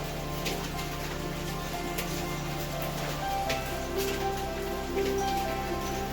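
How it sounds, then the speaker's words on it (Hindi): Hailstones fall steadily outdoors with a dense, continuous patter and scattered sharper ticks striking surfaces nearby, accompanied by a low background hum. "हमने जाके देखा तो यहाँ ओले गिर रहे थे"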